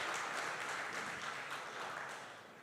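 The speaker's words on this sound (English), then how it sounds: "So big round of applause for all of you people." Audience applause at a student orientation program, a steady, moderately distant patter of many hands clapping that fades slightly toward the end.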